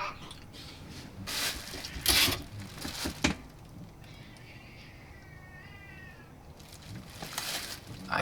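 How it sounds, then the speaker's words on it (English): A cat's faint, distant yowling cry rising and wavering in the middle, set against a rough hissing background with some louder rustling bursts near the start. "I think a sick cat or a fighting cat just screamed."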